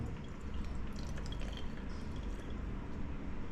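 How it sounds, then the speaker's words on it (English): Cleaning solution is poured into the water tank of an iRobot Braava M6 mopping robot, a steady soft trickling and splashing of liquid that holds unbroken from start to end with no talk over it. "we need to pour half of the bottle inside the tank"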